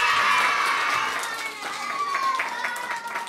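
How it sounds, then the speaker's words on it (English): Children clapping and cheering during a storytelling session for young kids, a lively mix of claps and excited voices that eases slightly midway. "Let's give a big round of applause to Zora Neale Hurston."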